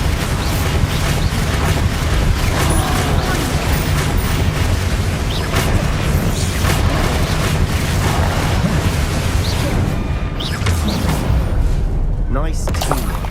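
Bombarda explosion spells in Hogwarts Legacy during a troll fight, thudding booms buried in continuous loud battle noise, with talk running throughout.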